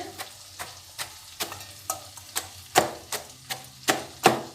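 Boiled vegetables are mashed with the rim of a glass, giving about a dozen soft, regular thuds and squelches in a steady rhythm, close by.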